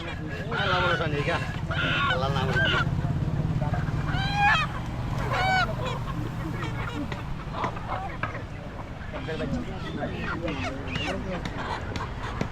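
Native hill chickens and roosters at a busy market, with repeated loud squawks and crowing calls rising over a constant crowd murmur and nearby talk.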